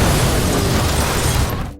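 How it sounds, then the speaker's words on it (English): A car crashing off a bridge into a river produces a dense, loud, roaring impact and rush of noise that holds steady for under two seconds before cutting off abruptly. "The car crashes off a bridge and into a river."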